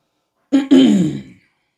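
A narrator reading a Korean novel aloud imitates a single loud, gruff cough, a short throat-clearing burst that fades quickly into silence.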